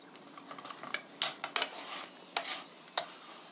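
Potato wedges go into an oiled frying pan with scattered sizzling bursts and clattering knocks as pieces are placed, close and fairly quiet, no voices.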